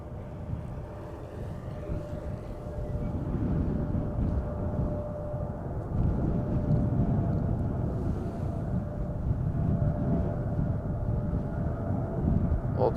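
Air Malta airliner taking off from the center runway at Schiphol Airport, a distant, steady low jet roar that swells slightly and holds, alone with faint wind.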